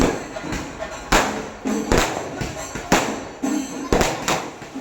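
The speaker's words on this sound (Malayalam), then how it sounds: "മൊത്തത്തിൽ പടക്കം പൊട്ടലും ചെണ്ടമേളവും എല്ലാമായിട്ട് നല്ല രസമുണ്ട്" Firecrackers burst during a temple festival procession, about eight sharp, fairly close bangs going off in an irregular rhythm, each trailing into a rumbling echo.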